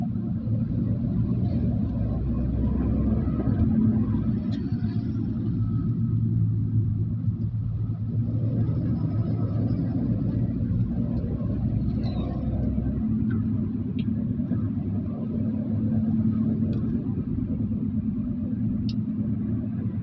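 Steady low rumble of road traffic heard from inside a moving car on the road from Ongole to Podili, engine and tyre drone constant and fairly quiet throughout, with faint passing vehicles.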